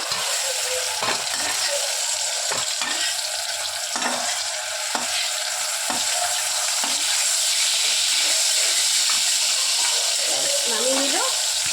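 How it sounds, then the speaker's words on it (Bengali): Fish frying in hot oil in a pan, a loud continuous sizzle close up with occasional spoon scrapes and clinks throughout. "এবার তেল দিয়ে মাছটাকে ভেজে নেবে একটু তেল দিয়ে দিচ্ছে"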